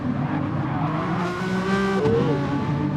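A small race car in a sim racing game drives at full power with a loud steady engine drone, as tires squeal through a corner, with no voices over it.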